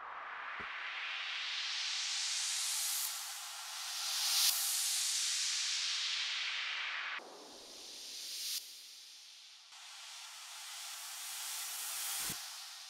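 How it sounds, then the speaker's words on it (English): Swelling white-noise risers, faders and crash swooshes from a liquid drum and bass track rise and fall in long sweeps, cutting off sharply between sections, with thumping hits punctuating them and no talking. "we have all our faders, risers, crashes"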